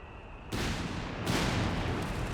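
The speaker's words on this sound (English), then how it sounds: "Barraging away with this support gun here." Artillery barrage from a support gun in Company of Heroes 3, a sudden heavy boom followed by a second blast a moment later, both loud and sustained with rumbling roar.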